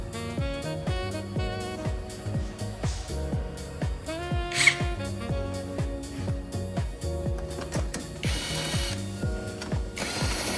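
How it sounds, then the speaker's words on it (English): A 10mm socket ratchet removing screws from a 2000W Venom BD576Z electric moped, giving close, quiet, rhythmic clicking in repeated quick strokes, with a few brief scraping sounds near the end. "We're gonna take these two screws off with a 10mm socket."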